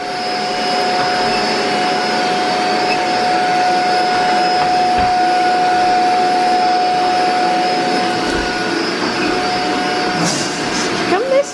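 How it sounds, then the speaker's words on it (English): A vacuum cleaner drones steadily throughout with a steady high whine, loud and close, with a few bumps and clatters near the end. "I'm gonna clean up around here, which means vacuum"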